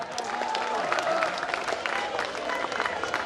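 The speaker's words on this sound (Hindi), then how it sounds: "एक बार जोरदार तालियां" Loud, sustained applause from an audience at a government school career fair and exam-discussion event, a dense wash of clapping that carries on throughout.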